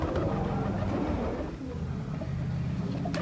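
Pigeons with young gathered to eat grain, cooing and stirring over a steady, fairly loud background hum with no pauses.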